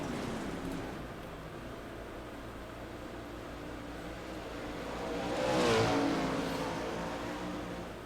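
410 sprint race cars on the dirt track at Williams Grove make a distant, steady engine roar that swells as a car passes near the middle, with no commentary over it.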